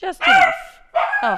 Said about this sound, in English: excuse my psychotic dog barking at everything that walks past the house